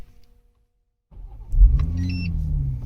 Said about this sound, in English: So if we now turn it off and start the vehicle,